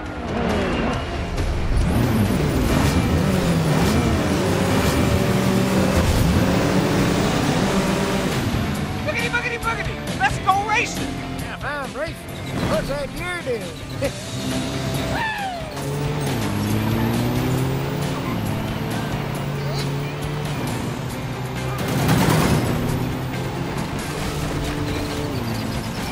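Race cars in Cars 3: Driven to Win rev and whine through a Cup series race, engine pitches sweeping up and down, with sharp crash bursts midway and continuous commentary talk over the racing.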